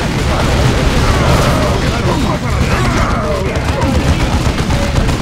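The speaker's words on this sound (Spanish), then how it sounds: "Uy, una granada. Uy, la granada. Buah, le dio a uno." A grenade blast in Warhammer 40k Dawn of War 2 lands amid dense battlefield noise, with loud continuous gunfire and rumbling explosions layered under excited talk.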